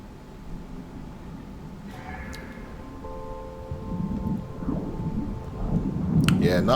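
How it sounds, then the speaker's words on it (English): Thunderstorm in the video game No Man's Sky: low rumbling thunder builds gradually with a steady rain-like wash, growing louder toward the end, with faint tonal game sounds and no speech. "Weather warning. Incoming storm."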